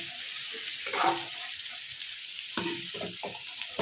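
Eggplant with spices frying in a wok over low heat gives a steady close sizzle, broken by a few louder scraping stirs near the start and again toward the end.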